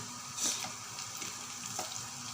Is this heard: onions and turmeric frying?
yes